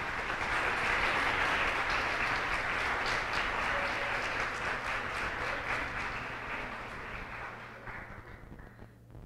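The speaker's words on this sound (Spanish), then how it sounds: "La despedimos con otro aplauso" Sustained applause from a seated audience at the closing ceremony of a national archivists' gathering, a broad wash of clapping over a low steady hum that slowly tapers and fades out.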